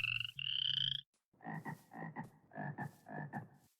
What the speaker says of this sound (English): What are those frogs?